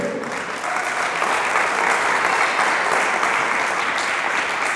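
A church congregation claps steadily during a Spanish-language sermon, with sustained dense applause from many hands filling the room and no talk over it.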